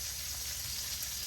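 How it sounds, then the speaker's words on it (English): Ginger and garlic fry in a hot pan over a strong flame, giving a brief, steady, fairly faint hiss and sizzle with no voices. "We're going to throw in the ginger and the garlic."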